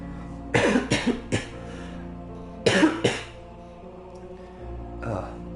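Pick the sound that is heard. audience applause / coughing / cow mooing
coughing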